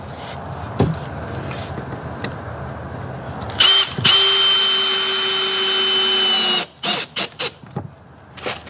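A power drill driving 1¼-inch screws into a wooden nuc box for bees, with a loud, close, steady whine that cuts off into several short trigger bursts as each screw seats.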